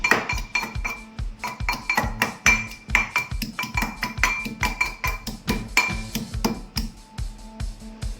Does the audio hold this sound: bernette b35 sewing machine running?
no